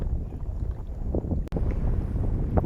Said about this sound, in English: the wind has really picked up in the last couple minutes